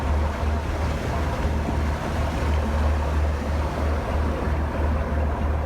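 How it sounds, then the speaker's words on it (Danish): Sea waves and swell from a sailing boat crossing the English Channel, a continuous loud rushing wash with heavy wind noise buffeting the microphone, low rumble throughout and no talk. "Fra en kvart til en halv meter bølger. Dønninger hedder det jo derude."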